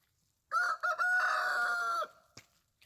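A farm rooster crows loudly and close by in one sustained cock-a-doodle-doo lasting about a second and a half, followed by a short clucking sound and then quiet.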